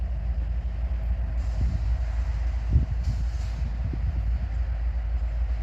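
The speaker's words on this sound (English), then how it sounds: "there's our train coming in" The Abbeville switcher rolls in hauling four covered hopper grain cars, a steady low rail rumble with faint squeaks and clanks, moderately near and continuous throughout.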